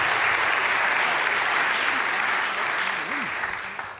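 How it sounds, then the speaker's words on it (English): Audience applause at a conference, a dense continuous roar of many hands clapping, loud and steady, easing slightly toward the end, with a faint voice or tone underneath. "he really, really deserves a big applause."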